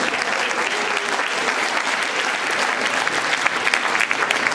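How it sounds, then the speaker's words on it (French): An audience at a justice seminar claps steadily, a dense, even wash of applause sustained throughout at fairly close range with no pauses. "qui mérite aussi vos applaudissements"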